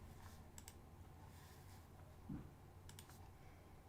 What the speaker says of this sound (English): I dropped my phone on my keyboard and just took a screenshot